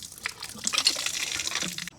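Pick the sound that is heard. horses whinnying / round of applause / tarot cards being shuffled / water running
water running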